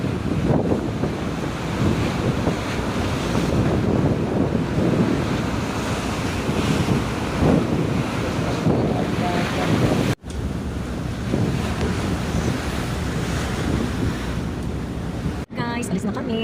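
Continuous big ocean surf from a low-pressure system roars and washes, mixed with heavy wind buffeting the microphone, with brief dropouts partway through.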